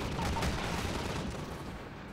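Gunfire from a firefight in the video game Half-Life 2: Episode 1, a dense wash of distant shots and bursts at moderate level, fading slightly toward the end.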